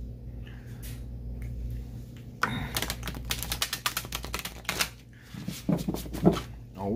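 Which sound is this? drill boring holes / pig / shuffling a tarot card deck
shuffling a tarot card deck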